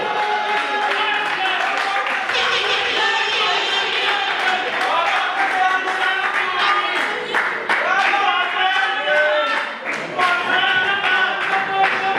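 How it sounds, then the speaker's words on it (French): An audience applauding at a 60th birthday celebration in Los Angeles, with steady, dense clapping and cheering that runs under a voice announcing over a loudspeaker. "Sous vos applaudissements"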